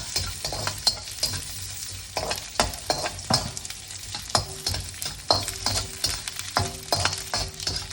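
Ingredients stir-fried with Chinese sauces in a pan for pineapple fried rice, loud close sizzling broken by repeated sharp scrapes and clacks of a utensil tossing the food in an irregular rhythm.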